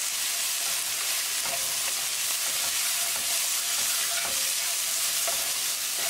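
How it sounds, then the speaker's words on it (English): Ground spices (salt, Kashmiri mint, cumin, coriander and turmeric) fry in a tadka for a potato curry, giving a steady close sizzle with occasional soft stirring scrapes. "Cook spices along with tadka for 1 minute"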